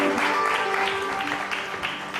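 A television studio audience applauds two contestants on a game show with a brief, dense patter of clapping. A voice and some music carry underneath.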